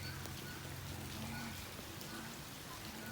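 Steady rain falls on a cold day, a dense, even hiss that fills the whole clip without breaks, close and moderately loud, with no voices over it.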